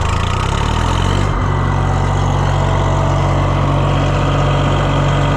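Idling diesel engine of a John Deere 1020 tractor runs steadily and loud up close, its low rumble shifting slightly as the throttle is opened, with no talking.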